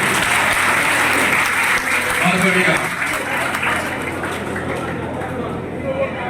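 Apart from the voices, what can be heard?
audience clapping for Anil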